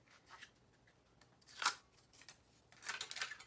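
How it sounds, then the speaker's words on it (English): Scissors snip through a thin sliver of aluminum can, trimming it to fit a tapered office chair base opening; two quiet, close cuts, a sharp crunch near the middle and a longer rasping cut at the end, with no talking. "trimmed it off with some scissors"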